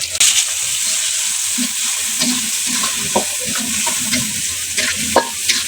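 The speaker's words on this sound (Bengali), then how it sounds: "পেঁয়াজ কাঁচামরিচ দিয়ে এখন নাড়াচাড়া করতে একটু লবণ দিয়ে দিব" Sliced onion and green chili fry in hot oil in a home kitchen, a steady loud sizzle broken by repeated scraping and clinking of a spoon stirring against the pan.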